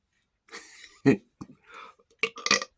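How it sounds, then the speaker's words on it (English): A short, feeble burp rises out of quiet, followed by a few murmured sounds and breathy noises, close to the microphone. "Oh, weakest burp ever, dude."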